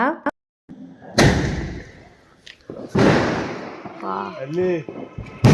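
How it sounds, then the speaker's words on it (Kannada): A multi-colour Diwali firework shot blasts outdoors, giving two sharp booming bursts a couple of seconds apart as people talk nearby. "ಇವಾಗ ಬ್ಲಾಸ್ಟ್ ಆಯಿತು ನೋಡಿ ಅದು ಮಲ್ಟಿ ಕಲರ್ ಬಂತು"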